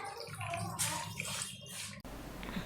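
Water is poured into a pot of fish curry in a steady splashing stream, close and moderately loud, with the sound shifting briefly near the end.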